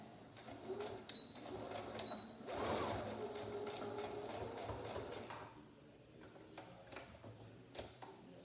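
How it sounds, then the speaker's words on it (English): A sewing machine runs in steady bursts, stitching back over a seam to reinforce a fabric face mask, its rapid mechanical whir close and continuous with brief pauses and ticking clicks. "I'm going to go back and I'm going to sew over that little area there."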